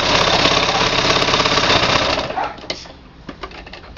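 Sewing machine stitching a rolled hem on knit fabric, a loud, fast, close mechanical whir for about two seconds before slowing and stopping, followed by a few faint clicks.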